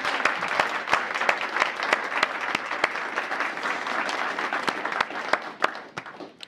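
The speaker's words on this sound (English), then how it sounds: "Please join me in giving a round of applause to each of those family members who are here today" Audience applause for family members at a Presidential Rank Awards ceremony, a steady wash of many hands clapping at moderate volume, with a few sharper nearby claps standing out throughout.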